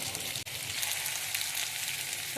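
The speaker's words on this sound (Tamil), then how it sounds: "ஒரு நாலஞ்சு வெங்காயம் போட்டு வதக்குனா போதும் ஒரு அஞ்சு நிமிஷம் வதங்கட்டும்" Four or five onions sauté in a hot pan for a Tamil black nightshade stir fry, giving a steady, dense sizzle that runs without a break except for one brief dip.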